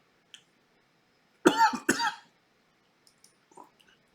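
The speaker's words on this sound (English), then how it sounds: "sorry about the cough." A man clears his throat and gives a cough, two short harsh bursts close to the microphone, with faint small noises in an otherwise quiet room.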